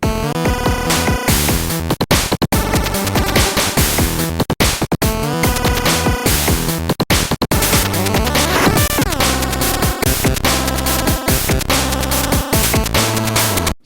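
A Game Boy plays a dense, loud chiptune riff: a buzzing pulse-channel melody driven by wave-channel bass and noise-channel percussion, with rapid rhythmic stabs running without pause.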